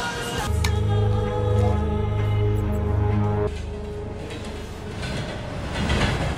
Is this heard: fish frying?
no